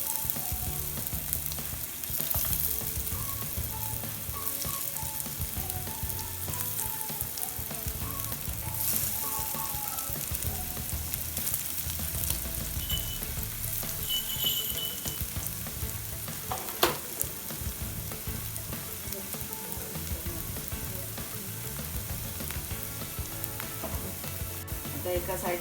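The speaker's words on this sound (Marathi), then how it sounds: "बारीक गॅसवर चांगला कुरकुरीत भाजून घ्यायचा" Kothimbir vadi, coriander fritters, frying in hot oil on a tawa over a low flame, giving a steady close sizzle throughout with a few faint scrapes and clinks, and one sharp tap partway through.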